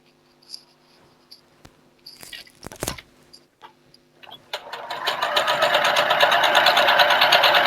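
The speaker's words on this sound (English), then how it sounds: "So what you will do is sew down the 2 short sides." A domestic sewing machine runs steadily, stitching down the short sides of a piece of fabric. It starts after a few faint clicks and handling noises and then hums on continuously at moderate, close volume.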